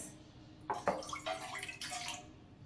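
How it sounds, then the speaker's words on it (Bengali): Water poured into a dough of rice flour and wheat flour in a kitchen, a soft splashing trickle that starts after a quiet moment and runs in short bursts for about two seconds, close and fairly faint. "আর একটুখানি যে মানে ময়দা দিলাম লাস্টে, তার জন্য আর একটু জল দেবো"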